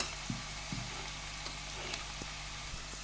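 Onions frying in a pan until light brown, a steady broad sizzle with a couple of brief clanks early on and faint ticks of stirring, close and even, no voices.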